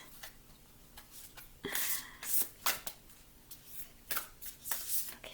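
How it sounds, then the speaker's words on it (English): Cards being shuffled in quick riffling bursts with soft taps between, close by, with occasional quiet speech in the background. "I hope I can shuffle these cards."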